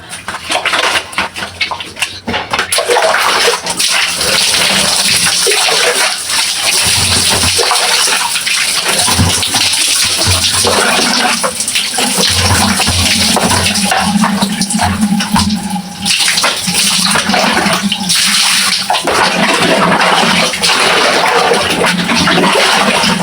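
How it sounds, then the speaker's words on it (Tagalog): Water pours and splashes steadily while rinsing soapy hair in a bath, a continuous loud gushing rush that runs nearly unbroken through the whole stretch with small shifts in flow. "magbabanlaw na tayo dahil tapos na tayo magsabon"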